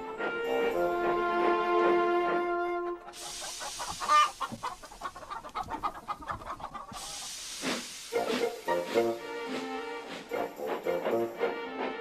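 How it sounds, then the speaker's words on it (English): Chickens cluck and squawk in short bursts between puffs of steam and a whistle from a toy train, all close and fairly clear with no talking. "First, Thomas collected the chickens."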